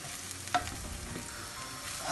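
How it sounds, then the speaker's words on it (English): Onion frying and being stirred in a pan while cooking a Kerala-style chicken curry, a steady close sizzle with a single sharp scrape of the utensil. "And cook the onion till it become brown color."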